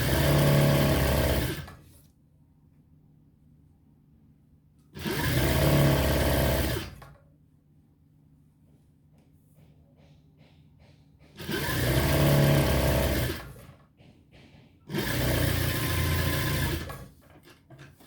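A sewing machine sews a decorative neck design on a garment, running in four separate bursts of a few seconds each with quiet pauses between them, close and steady.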